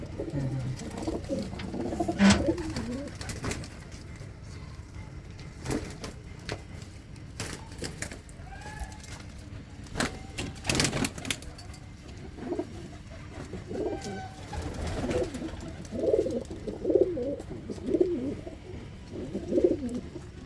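Pigeons coo repeatedly at close range, with soft throaty calls rising and falling amid scattered clicks and rustling from the birds.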